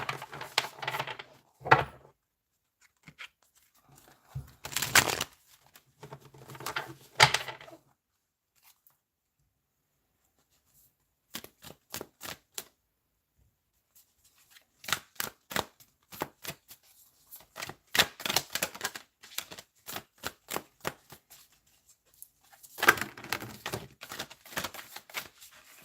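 Tarot cards are shuffled in bursts of crisp riffling and slapping, with quiet gaps between the clusters and a long run of rapid card flicks toward the end, close and moderately loud.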